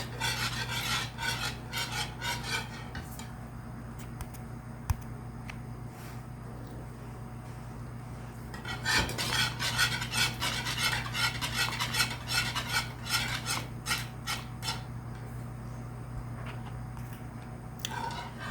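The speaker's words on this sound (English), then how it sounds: "1/2 cup of cream. And let that stir and thicken up for a second." Cream being stirred in a pot over steady background hum, with a continuous close rasping scrape of the utensil against the pot bottom that grows busier and louder around the middle.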